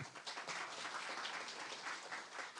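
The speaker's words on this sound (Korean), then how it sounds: "큰 박수로 환영해 주시기 바랍니다." At a forum session on the JDC duty-free shop, an audience welcomes a professor with applause that stays quiet and distant but steady, a soft continuous patter of many hands.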